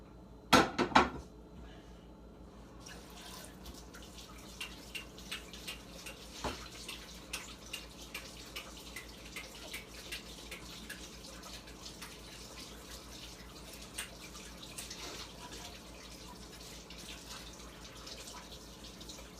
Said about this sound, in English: I'm gonna wash my hands again real quick.